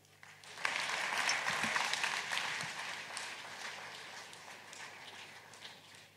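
An audience at a climate summit bursts into applause, a sustained mid-distance clapping that swells quickly and then slowly tapers off.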